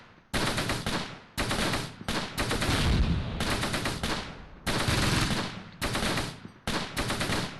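Repeated bursts of automatic machine-gun fire in the Close Combat WWII battle game, rattling in sharp stop-start volleys of varying length, loud and close throughout.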